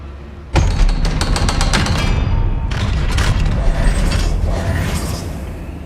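Revelio spell being cast in Hogwarts Legacy on PS5: a sudden loud burst of rapid mechanical clicks and creaks that then sweeps and rumbles on, with a second surge partway through.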